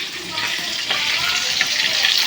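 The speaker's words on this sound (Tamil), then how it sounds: "மீன் பொரிக்கிறீங்களா?" Fish frying in oil in a home kitchen, a dense close hiss and crackle of sizzling that runs continuously with faint watery clatter.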